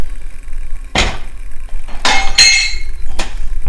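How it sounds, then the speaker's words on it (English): Several sharp metallic slams and clanks, one with a glassy rattle, heard close up over a low background rumble, as the door of a 1987 Pontiac Fiero GT is shut forcefully. "when you shut the door, you get a sound like this"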